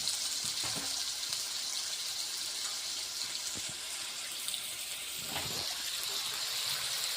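Potatoes being washed in clean water produce a continuous soft rush of running water with a few splashes and light knocks, close and low in level, no talk.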